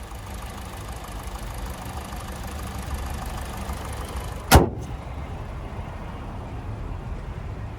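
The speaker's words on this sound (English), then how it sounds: "And there's the 2-liter 4-cylinder engine." A 2021 Kia Soul LX's 2-liter 4-cylinder engine idles with a steady low rumble, broken midway by a single sharp click or thump.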